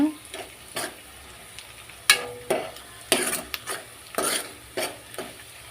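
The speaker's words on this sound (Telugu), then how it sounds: "ఇలా ఉల్లిగడ్డ మొత్తం ఫ్రై కావాలి ఫ్రెండ్ ఉల్లిగడ్డను అయితే ఇలా మగ్గనివ్వాలి" Chopped onions fry in a pan with a continuous sizzle, while a spatula stirs them in repeated scraping strokes, close and clear.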